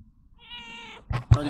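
A small cat meows once in a drawn-out, clear call, near and fairly loud, followed by a couple of sharp thumps or handling bumps.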